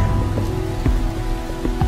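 Steady heavy rain in the bush patters on a surface, with scattered heavier drops landing close by and a constant low hum beneath.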